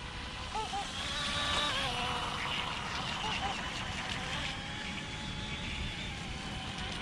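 A water-cooled tunnel jet RC boat on a 3S LiPo runs at full throttle, a steady high-pitched electric whine heard from a distance over constant background noise, holding level for several seconds as it laps.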